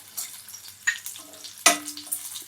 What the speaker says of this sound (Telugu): చిన్న చిన్నగా కట్ చేసుకున్న పచ్చిమిరపకాయలు ఈ పచ్చిమిరపకాయలు కూడా వేగి టేస్ట్ అనేది చాలా బాగుంటుందండి